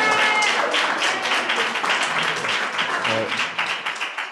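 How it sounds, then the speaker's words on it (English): Audience applause at a poetry reading, a dense wash of many hands clapping that fades slightly toward the end, with voices and cheering mixed in throughout. "Can we give another round of applause?"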